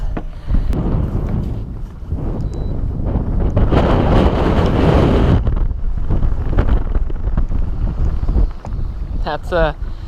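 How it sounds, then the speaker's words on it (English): Strong wind roars across the microphone on a fishing boat at sea, a loud, continuous buffeting rush that swells and dips, with faint voices partly buried underneath. "That just blew my hat off. Some freaking serious wind."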